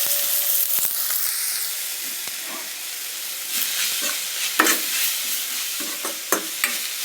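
Ginger, garlic, green chili and cabbage stir-fry in oil for a momo filling: a soft sizzle broken by repeated spatula scrapes and clinks against the pan, close and unaccompanied by speech.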